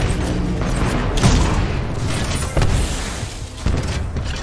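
An enemy Titan drops from the sky in Titanfall 2, landing with deep booming impacts and rumbling mechanical thuds, loud and heavy, with a couple of sharp jolts as it hits the ground.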